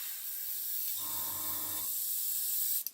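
An Iwata airbrush sprays a test shot onto paper: a steady airy hiss runs throughout, with a brief fuller, rougher spray burst in the middle, faint and close.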